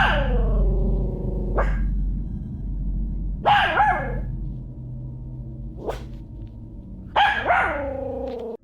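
A dog barks in short, sharp bursts, close and loud, roughly every two seconds, some yelps rising and falling in pitch, over a low room rumble.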